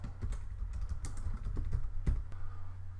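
Quick keystrokes on a computer keyboard as text is entered, a close, irregular patter of taps with a few heavier key presses, heard alone.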